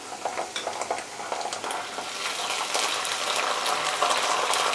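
Onions frying with two spoons of ginger-garlic paste in a pan for a chicken dish, giving a steady, close sizzle with stirring scrapes and taps at the start, building into a continuous hiss.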